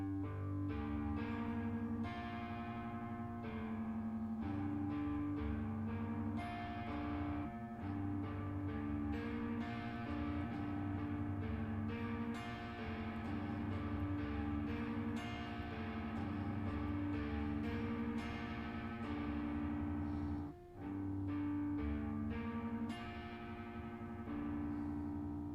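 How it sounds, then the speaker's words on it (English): An electric guitar played through a heavy distortion effect rings out in sustained, thick chords and notes for the whole stretch, steady and fairly loud with only a brief dip near the end. "It's on like a heavier distortion right now."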